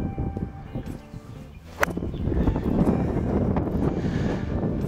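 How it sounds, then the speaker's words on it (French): A strong gust of wind blows across the Makila golf course, rising midway into a steady, loud rush of buffeting against the microphone, with a sharp click just before it builds. "il y avait une grosse rafale de vent au moment où j'ai joué"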